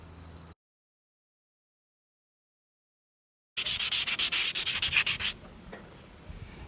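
Sanding on the bare frame of a 1936 Harley-Davidson, a loud close run of rapid rasping strokes lasting about two seconds, then quieter rubbing, after a long stretch of silence.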